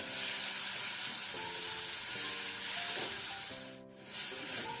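Tomato and ginger fry with onion and garlic in a pan, giving off a continuous close sizzle broken by the scrape of stirring. No one speaks.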